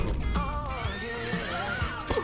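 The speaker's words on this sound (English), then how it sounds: "The horses are so cute, y'all." A horse whinnies in a long, wavering neigh in a video game horse expansion pack trailer, loud and close over a busy background of hoof sounds and game audio.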